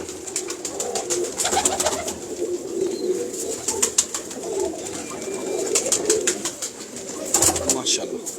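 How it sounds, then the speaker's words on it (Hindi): Breeding pigeons cooing and calling continuously, with soft wing flutters and rustling close by, some faint voices in the background. "कबूतर आपको दिखा रहे हैं।"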